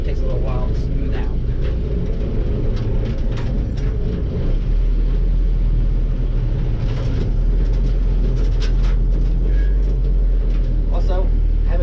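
A Willys Jeep with overdrive rolls on tube-type bias-ply tires flat-spotted from sitting, giving a loud, close, continuous low rumble with rattling road noise from inside the vehicle, while a person talks over it.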